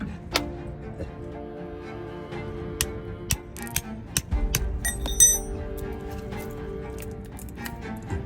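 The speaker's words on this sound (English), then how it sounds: "The knocking sound you hear is not the CV boot." Repeated irregular knocks and ticks from a broken bearing inside a car's CV joint, sharp metallic clicks over a steady low engine rumble, close and moderately loud.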